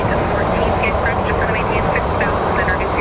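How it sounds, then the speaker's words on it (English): A loud, broad roar of Boeing 737 MAX jet engines spooling up at Phoenix Sky Harbor airport, with a steady rushing rumble and faint high whine, heard from fairly close. "this is a 737 MAX"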